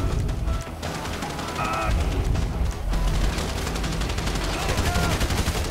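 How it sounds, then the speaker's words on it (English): Rapid gunfire in the video game GTA V during a heist shootout: loud bursts of automatic shots crackle continuously with a few brief lulls, all close and dense. "So I guess we're shooting our way out of here."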